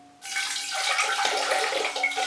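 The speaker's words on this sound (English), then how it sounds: "So I pour water over the kikis." Water poured by hand over the exposed roots of a mounted orchid, a broad steady splashing that starts abruptly and runs on continuously, close and fairly loud, with no talking.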